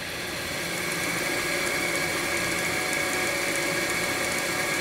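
An Eldorado M75-1061 twin-spindle gun drilling machine runs its spindles at 2,000 with a steady, dense mechanical whir and hum. The sound is loud and continuous, with no talk over it.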